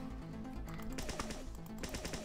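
Gunshots in the Roblox game Notoriety, a quick run of sharp, quiet shots over a steady tonal background hum. No one speaks.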